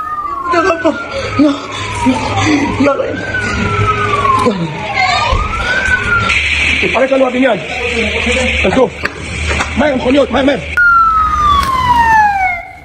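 Fire brigade vehicles arrive at a damaged city scene with burning cars, their wailing sirens sweeping up and down loudly and continuously, overlapping one another amid street noise and voices.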